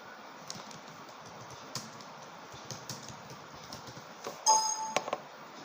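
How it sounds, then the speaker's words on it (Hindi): Typing on a computer keyboard while entering text in Microsoft Word produces quiet, close key taps in an uneven run, ending in a few louder clacks and a short chime, with no talking. "सपोज़ मैंने आगे कुछ भी मैटर टाइप किया इसमें"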